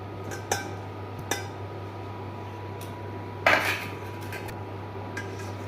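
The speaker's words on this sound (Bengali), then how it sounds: "এবার এর মধ্যে আমি যে পনিরগুলো কেটে রেখেছিলাম সেগুলো দিয়ে দেবো।" Cut paneer pieces go into a bowl and are mixed, giving a few sharp clinks of utensil against the bowl over a steady low hum, with one louder clattering burst midway.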